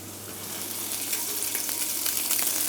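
A thin fish fillet sizzles in a hot oiled pan, a steady bright crackle that swells slightly and stays close and fairly loud with no talking.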